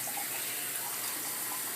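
Fermenting cherry tomato seeds in liquid pour out of a glass in one steady, close splashing stream that sounds like running water.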